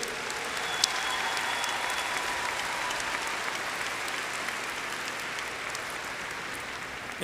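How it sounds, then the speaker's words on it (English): A large audience at a graduation ceremony claps steadily and continuously, a dense, even wash of applause that holds at the same level throughout. "give our family, friends, and our teachers from the students a round of applause"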